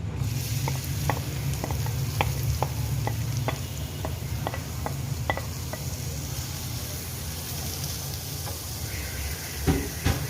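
Onions sizzle in hot oil in a karahi, a steady bright hiss broken by regular soft stirring clicks and scrapes, close and continuous with no talking.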